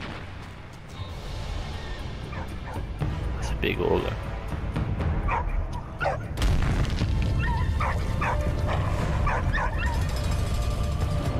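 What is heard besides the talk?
dog barking and whimpering in the video game Valiant Hearts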